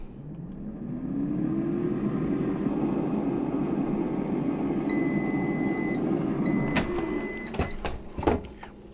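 An air fryer set to 370 degrees runs with a steady loud fan whir while heating a frozen hamburger patty, then high electronic beeps sound and clicks and handling noises follow as it stops.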